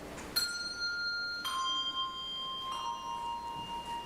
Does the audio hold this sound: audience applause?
no